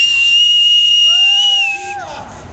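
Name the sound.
loud whistling with fingers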